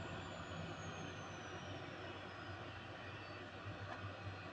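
A small aircraft engine idling after spooling down on the apron, a steady low droning hum with a faint high whine slowly falling in pitch, constant and unbroken.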